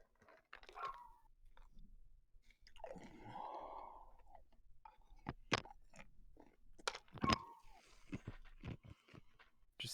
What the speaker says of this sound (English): Just ASMR, drinking and chewing noises.